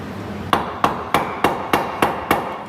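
Seven evenly spaced knocks ring out as a track rod end is tapped into place with a piece of wood during a CV joint repair on an MG ZS or Rover 45, each strike sharp, close and steady in rhythm.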